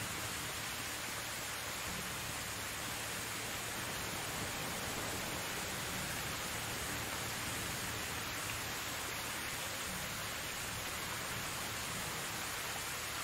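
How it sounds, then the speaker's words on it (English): Steady, dense rain pours across the Medieval Dynasty game world, a constant hiss with no break, loud and close, heard alone without talk. "This rain is very bad."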